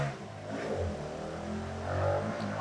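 A racing motorbike passes by on a street near a Padang curry food stall, its engine note rising and falling as it revs past at moderate distance.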